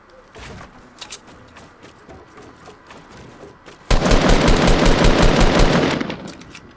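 Fortnite Battle Royale gunfire: a few scattered shots early on, then a loud, dense burst of rapid automatic fire lasting about two seconds, close and alone.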